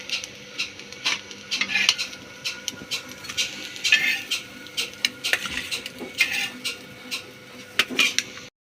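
Egg vadas frying in oil, with a light sizzle under frequent metallic clinks and scrapes as a spatula flips them and lifts them out of the pan.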